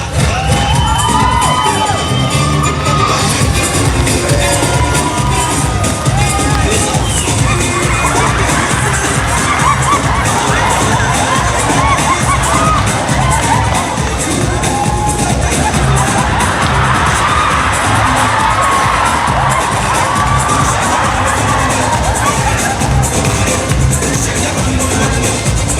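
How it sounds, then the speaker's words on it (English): A pageant crowd cheers, whoops and shouts loudly and continuously, with scattered bangs and general crowd noise throughout, dense and energetic without a break. "a big round of applause for your 5 contestants vying tonight for the title"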